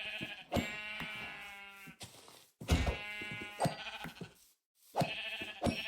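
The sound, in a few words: sheep bleating in a video game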